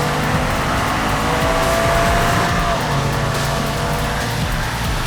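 A Golf 8.5 GTI and a GR Corolla accelerate hard side by side in a drag race, engines roaring steadily and loudly with tire noise, no voices over them.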